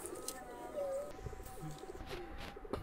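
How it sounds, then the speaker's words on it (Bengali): Running pigeons kept for sale coo in soft, low, rounded phrases over a faint background murmur, with a few brief sharper sounds near the end. "তো চলুন কিছু কবুতর দেখাই আপনাদের"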